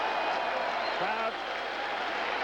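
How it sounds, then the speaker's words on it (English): A boxing arena crowd cheers and applauds as a lightweight fighter is introduced, a dense continuous roar with an announcer's voice talking over it. "cheering the introduction of Pernell Pete Whitaker."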